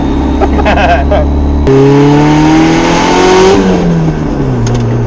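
A twin-turbo Honda Civic accelerates hard under boost in second gear: a loud, steady engine roar rising in pitch over several seconds, heard from inside the car, with people talking over it.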